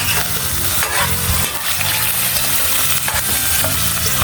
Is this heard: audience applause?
no